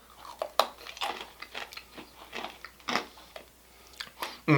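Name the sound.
biting crunchy peanut brittle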